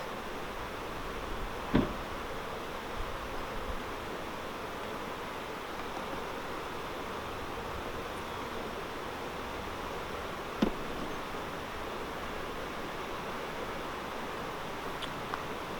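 Honey bees hum in a low, continuous drone close by during an inspection of a nuc hive, a steady buzz with two brief sharp knocks and no talk.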